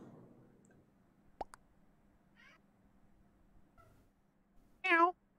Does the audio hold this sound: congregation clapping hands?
no